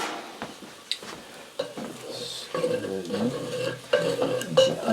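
Onions and garlic cook in a pan with a soft sizzle, while a utensil scrapes and stirs in uneven strokes that grow busier and louder toward the end, close by and without talking.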